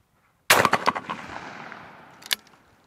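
A single close, loud blast from an SKB 90TSS over-under trap shotgun firing a 1 1/8 ounce load, with a sharp crack rolling into a long echoing tail and a second faint report near the end.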